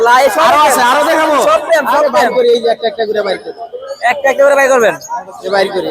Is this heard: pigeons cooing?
yes